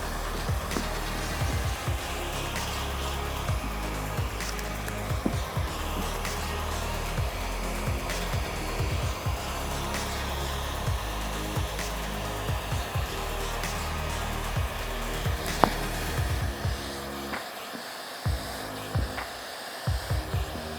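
A heat gun blows steadily for about twenty seconds while shrinking tint film on a Kia Optima rear windshield, a continuous loud airy hum with faint handling taps and rustles.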